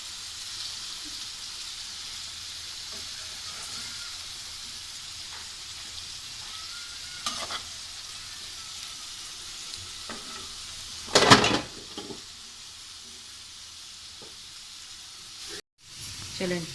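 Potatoes for potato chillies sizzle steadily in hot oil in a pan, with a continuous close frying hiss, a sharp stirring scrape near the middle and a brief clatter toward the end.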